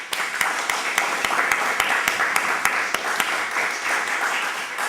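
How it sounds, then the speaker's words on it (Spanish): Audience applauding at a running talk event, a steady crowd of clapping hands with sharper individual claps standing out, fairly loud and close throughout. "Voy a pedirles a todos un fuerte aplauso para Diego."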